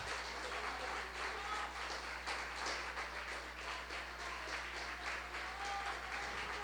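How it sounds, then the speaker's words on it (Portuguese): A church congregation claps together in sustained, dense applause that holds a steady, fairly loud level throughout, with faint voices mixed in. "Aplauda mesmo aí a Ele!"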